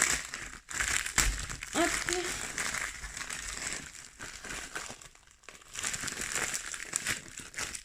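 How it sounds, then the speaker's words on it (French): A parcel of small pill-box style containers is unwrapped close by, its packaging crinkling and crushing in bursts, while someone speaks quietly in between. "je viens de recevoir un colis. Donc je vais l'ouvrir avec vous."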